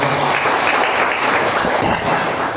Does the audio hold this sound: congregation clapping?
yes